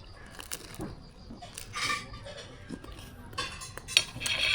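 Cutlery and dishes clink over a breakfast of vegetables and eggs, a series of light metallic taps and scrapes scattered at close range in a quiet setting.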